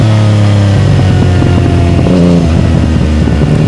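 A motorcycle exhaust rumbling steadily and loud while riding, the engine note shifting pitch as it moves along, with no voices over it.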